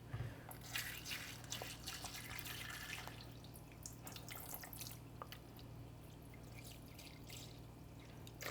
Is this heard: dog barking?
no